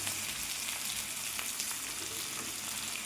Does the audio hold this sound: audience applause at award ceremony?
no